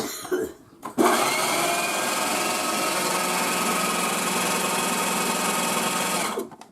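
A food processor blending hummus whirs loudly and steadily for several seconds after a brief clunk, its motor droning near and constant before winding down.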